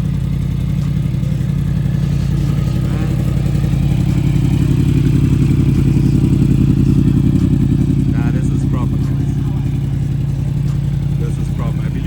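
Yamaha R1 motorcycle with a loud exhaust pipe, a steady heavy engine drone throughout, loud and close, with voices talking over it.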